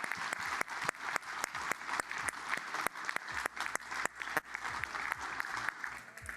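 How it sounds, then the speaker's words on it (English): Scattered, fairly quiet clapping from a modest audience at an innovation expo honoring post-harvest program graduates, individual claps distinct and irregular rather than a dense roar. "let's give a round of applause to our graduates from the post-harvest program"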